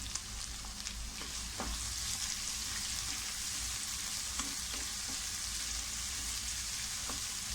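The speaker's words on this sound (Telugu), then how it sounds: "ఆనియన్స్ వేసుకున్న తర్వాత ఒకసారి అయితే కలుపుకుందాం" Sliced onions and green chillies frying in hot oil while being stirred, a continuous close, bright sizzle with occasional scraping ticks of the spoon throughout, no voices.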